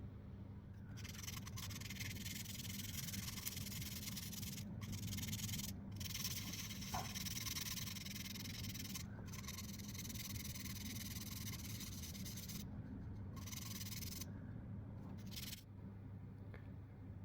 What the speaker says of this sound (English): I think I might need to sand it a bit to be very smooth.